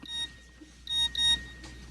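A phone's text message notification sounds as a few short electronic beeps in a quiet indoor room, with a faint steady hum underneath and no one talking.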